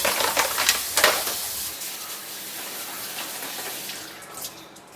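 Running tap water splashes over a batch of combs being washed, a steady close rush of water with a few clattering knocks at the start.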